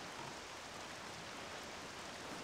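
Steady rain in the video game Wind Waker Randomizer, a faint continuous hiss of falling drops with no pauses or voices.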